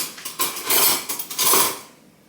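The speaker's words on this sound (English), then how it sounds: "So I think we're gonna give these a stir." Metal spoon scraping and clinking against a pot of cooked oats, several close, loud bursts of stirring in quick succession before fading out.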